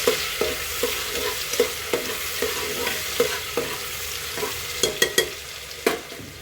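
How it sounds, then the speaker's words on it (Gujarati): Chillies, tomatoes and onion fry in a pan for tikha bhaat, a soft sizzle under regular scraping strokes of a spoon stirring roughly every half second, close by. "મરચાં નાખી દઈશું. અને હલાવી નાખીશું."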